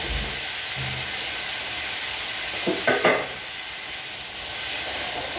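Tomatoes added to a hot pan while cooking tanigue fish with tausi, a steady bright sizzle throughout, broken around the middle by a few scraping stirs of a utensil against the pan.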